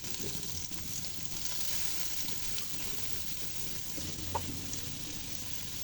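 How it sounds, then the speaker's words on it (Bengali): Finely chopped onions sizzle in hot oil as the masala for a pabda fish curry begins, a steady, moderately quiet frying hiss throughout with a faint stir or clink near the end. "মশলা কষানোর জন্য প্রথমে দিয়ে দিচ্ছি পেঁয়াজ কুচি"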